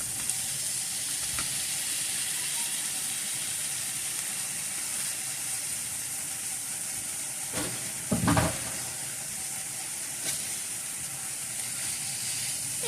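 Ham sizzles steadily in a pan with softened vegetables, a dense continuous frying hiss up close, broken briefly by a stirring scrape near the middle.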